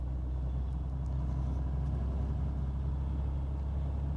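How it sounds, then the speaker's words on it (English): A Dodge Cummins turbo diesel truck engine runs with a steady, deep, loud rumble that holds unchanged throughout, with no voices. "Dodge Cummins Turbo Diesel."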